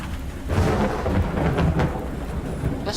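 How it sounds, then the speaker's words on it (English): Thunder in a video game rumbles low and heavy with rain hissing underneath, rolling continuously at close range for several seconds. "This thunder is not helping either."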